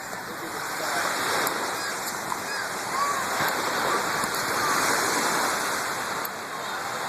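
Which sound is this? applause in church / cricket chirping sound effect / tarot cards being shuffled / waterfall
waterfall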